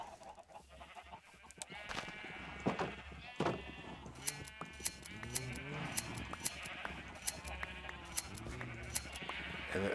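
Sheep in the Minecraft video game bleat repeatedly at a pasture, several overlapping wavering calls over a steady low background, with sharp ticking clicks scattered throughout and no talking.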